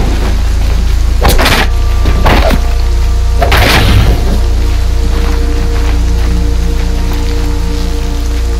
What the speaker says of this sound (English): Rain's letting up.